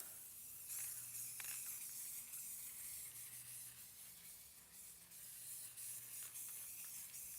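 A can of red spray paint hisses in a steady, fairly close spray, with a few brief pauses and faint rubbing noises between bursts, and no voices.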